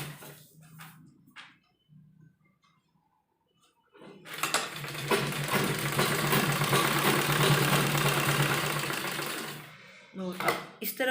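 A sewing machine stitches along a garment sleeve in one sustained whirring run of about six seconds, preceded and followed by someone talking.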